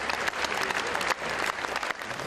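Concert audience applause at the Beijing International Music Festival after an orchestra's performance, dense and continuous clapping heard up close.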